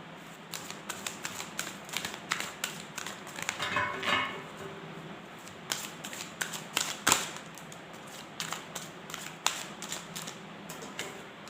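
A deck of tarot-style cards is shuffled by hand in a quiet room, producing repeated quick riffling bursts and soft slaps in an irregular rhythm, fairly close and moderate in level.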